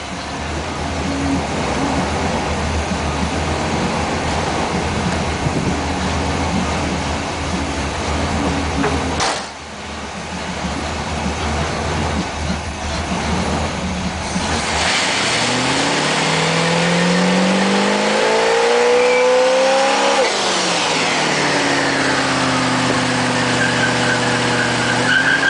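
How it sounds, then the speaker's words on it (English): A 1977 Chevelle SE's engine revs hard through a burnout, loud and close, the pitch climbing and swooping in long sustained pulls with a brief dip midway and heavy roar building toward the end. "Well, boys, there's the burnout."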